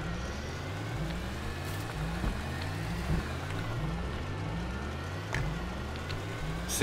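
A rover in the Astroneer video game driving over rough terrain, a steady low mechanical drone with a repeating rising and falling whine and a few soft bumps and knocks throughout.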